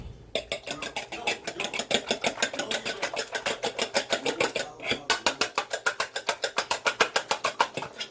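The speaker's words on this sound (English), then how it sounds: "We'll take a little bit of milk, not much. And give that a little whisk." Whisk beating two eggs with a little milk in a bowl, a fast steady rhythm of close scraping taps that runs continuously and grows more even toward the end.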